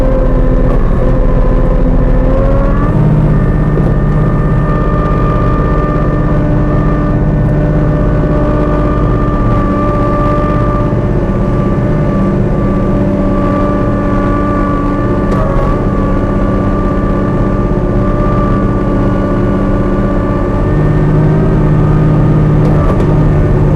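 A Kubota B2650 compact tractor runs a front PTO snowblower through wet, heavy, compacted snow, the diesel engine and blower churning in a loud, steady drone with slight shifts in pitch throughout.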